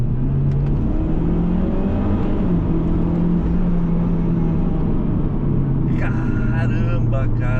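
The turbocharged engine of a Mitsubishi Lancer Ralliart pulls hard in sport mode, a loud, continuous drone and whir that stays steady throughout, with a voice over it.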